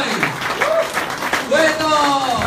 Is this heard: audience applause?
yes